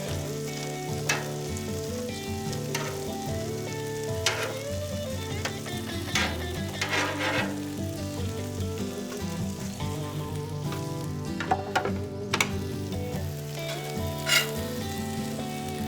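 Hash browns and bacon fry on a Loco griddle with a loud, steady, close sizzle that holds for the whole stretch, crackling brightly now and then.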